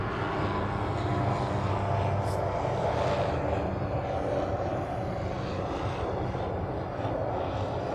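A Boeing 747 airliner passes near Honolulu airport, heard from the east side of the field: a loud, steady jet roar that fills the whole stretch and eases only slightly toward the end.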